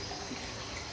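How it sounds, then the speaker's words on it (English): Running water flows steadily in a botanical garden, a soft continuous rushing wash with no pauses and no voices, heard fairly quietly throughout. "Running water"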